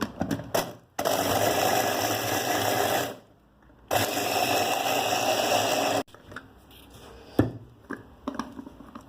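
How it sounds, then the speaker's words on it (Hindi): A kitchen chopper blends a packet of biscuits into crumbs for a cheesecake base, running in two loud, steady motor bursts of about two to three seconds each, close up, separated by short pauses and followed by a few clatters. "तो हम इनको ब्लेंड कर लेते हैं बहुत अच्छे से।"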